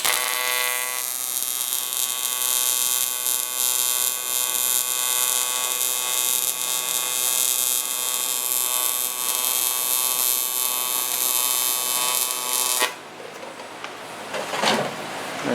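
Continuous crackling, buzzing hum of arc welding a drain petcock plate into a tank for a ProMod VW, close and steady for most of the span, then cutting out into quieter shuffling noise near the end, with no talking.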